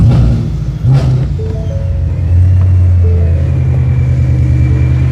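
A loud, deep supercharged 5.0 V8 engine of a 2019 Ford Mustang GT rumbles and revs up close, its low throaty growl rising and then holding steady.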